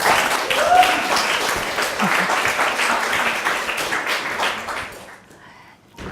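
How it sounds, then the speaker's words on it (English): An audience claps for a speaker being introduced at a tech meetup, a full burst of steady applause that thins and fades out near the end, with some murmuring voices mixed in. "Give her a round of applause."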